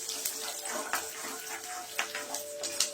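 Mustard seeds and torn dried red chillies fry in hot oil over a low flame for Rayalaseema-style mango pulihora, a continuous sizzling hiss dotted with small pops and crackles, close and moderately quiet.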